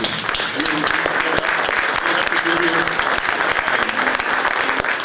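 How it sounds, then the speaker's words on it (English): A crowd applauds at a ribbon cutting ceremony in Springfield, loud, crisp clapping with sharp individual claps standing out, while voices murmur faintly underneath. "I want a round of applause for them and for their patience."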